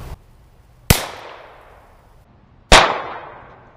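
A Ruger Wrangler revolver fires shotshells outdoors: two loud, sharp reports about two seconds apart, each ringing out briefly, with a faint earlier click before the first.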